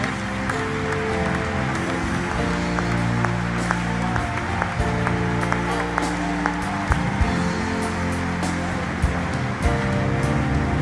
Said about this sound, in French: Est-ce que nous pouvons acclamer les Seigneurs très fort?